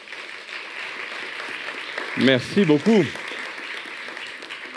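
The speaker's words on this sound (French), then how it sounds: "Je ne veux entendre qu'un tonnerre d'applaudissements." Sustained audience applause fills a lecture hall during a conference talk, steady and full throughout, with a man briefly voicing thanks over it midway.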